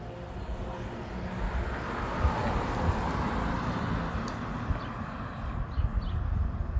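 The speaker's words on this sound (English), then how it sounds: "Seems like we got ourselves a plane. And it was a big and closer one." A large airplane flies low and close overhead, a broad, steady roar that swells slightly midway and holds loud throughout, with no voices over it.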